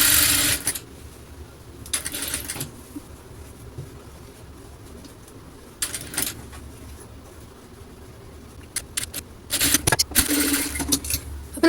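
A sewing machine stitches pleats into a silk skirt (pattu pavada), running in a few short bursts with quiet pauses between them and no talk.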